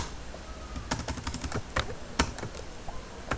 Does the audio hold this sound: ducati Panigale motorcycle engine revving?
no